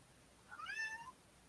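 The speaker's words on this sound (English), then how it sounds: "I don't know if you can hear my cat meowing." A house cat gives a single faint, rising-then-falling meow, heard alone against quiet background hiss.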